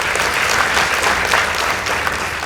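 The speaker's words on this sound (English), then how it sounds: "Please give them a round of applause." Steady, dense applause from a school debate audience fills the room for Lirhanda Girls High School, loud and continuous throughout with no speech over it.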